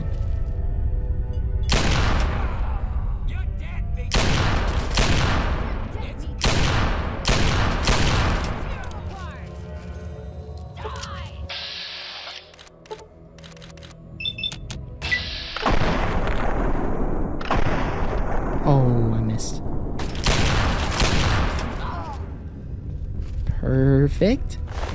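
Repeated loud gunfire bursts from a 44 Magnum pistol, combat shotgun and 10mm SMG echo in the video game Fallout 3, booming in rhythmic volleys with a quieter pause midway, mixed with someone talking.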